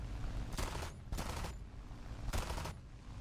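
Aircraft machine guns fire in War Thunder, with three short bursts of rapid gunfire over a steady engine drone, loud and close, separated by brief gaps.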